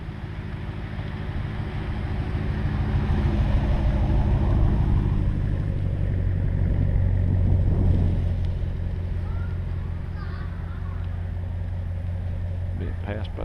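The campground host's vehicle at a beachfront state park campground rolling past, its engine rumble swelling to a peak and then fading over about ten seconds, with a person talking over it.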